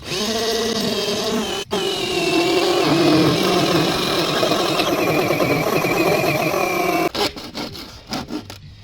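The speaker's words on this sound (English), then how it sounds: "I'm going to see if I can drill through with this masonry bit" A power drill with a masonry bit grinds into Indian stone paving with a continuous high whine that wavers in pitch, then stutters and stops in short bursts.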